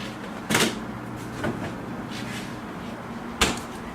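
Freezer door in a home kitchen opening with a soft thud, a faint knock in between, then shutting with a firmer clack a few seconds later, close by against a quiet room.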